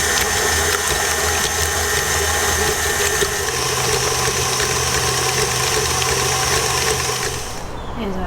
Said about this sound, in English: So we're going to get this whisking.